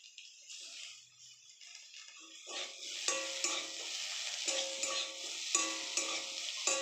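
Curry frying and being stirred in a pan, a steady sizzle with scraping strokes of a spoon growing louder midway and continuing without pause, close up and alone.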